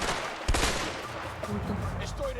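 Gunfire in the co-op prison-break game A Way Out, a sharp loud shot near the start followed by a dense, continuous spatter of shots and game noise running throughout, with talk mixed in.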